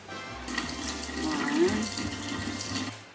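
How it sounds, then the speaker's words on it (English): Water from tomato paste cans pours steadily into a slow cooker pot for a few seconds, a close splashing gush with a faint low hum in the background. "I'm actually going to add a couple of cans of water from my tomato paste cans."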